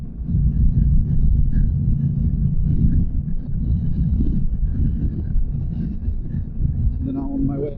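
A 2024 Honda Africa Twin motorcycle cruises at 58 mph around 4,300 RPM, a steady low engine rumble mixed with wind buffeting at the helmet, no voices heard.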